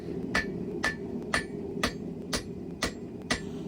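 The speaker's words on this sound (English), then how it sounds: "You heat the metal and tap it around the horn of the anvil." A hammer taps hot steel around the horn of an anvil while forging Damascus, giving seven evenly spaced, sharp metallic strikes about half a second apart over a steady background hum.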